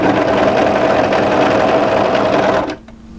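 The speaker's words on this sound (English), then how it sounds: "that's as far as we want to overlock now" An overlocker sewing machine stitches fabric for a draped midi dress in a fast, continuous whirring rattle, close and loud, then stops abruptly near the end, leaving quiet room tone.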